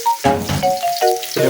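Chopped onion and garlic hit a hot pan and sizzle loudly up close, the hiss rising in bursts as the pieces are stirred, with short tonal squeaks between the bursts.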